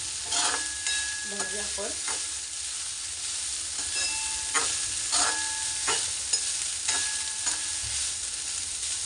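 Vegetables tossed with turmeric sauté in a pan, a steady hiss of frying broken by repeated stirring scrapes of a spatula, while a voice speaks briefly near the start.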